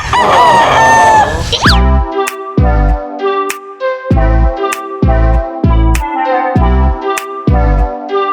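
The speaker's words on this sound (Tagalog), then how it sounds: "Sobrang daming mga manok dito." Roosters crow loudly and close in Davao, Philippines, one after another in a rapid rhythmic series of strident calls, with many clucking chickens mixed in at the start.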